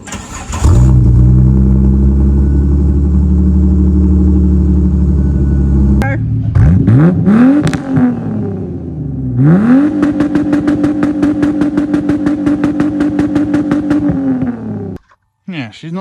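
A car with a suspected vacuum leak cranks and fires up, settling into a loud, steady idle, then is revved in two rising and falling sweeps before idling again with a rapid ticking pulse, close by.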